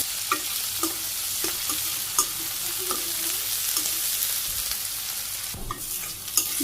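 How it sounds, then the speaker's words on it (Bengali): Onions and potatoes fry in a pan with a steady sizzle, and a utensil scrapes and stirs through them at irregular intervals, close and moderately loud, with no voices. "পেঁয়াজ দিয়ে দিন, পেঁয়াজগুলোর সাথে আর একটু ভাজি দিন।"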